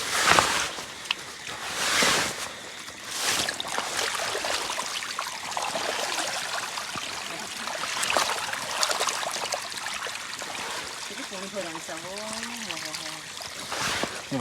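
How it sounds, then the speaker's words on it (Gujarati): Rainwater trickles and drips steadily during a downpour that has burst through a roof at night, a continuous watery wash with brief louder gushes and faint voices in the background. "વરસાદ ચલો પડ્યો હે"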